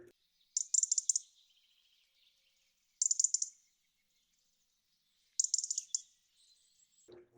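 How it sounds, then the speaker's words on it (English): A European robin giving its tick call: three short, sharp bursts of rapid high ticking spaced a few seconds apart, with quiet pauses between them. "Robins also give a tick call"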